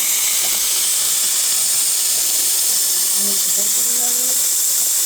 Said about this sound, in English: It's a lot of steam, isn't it?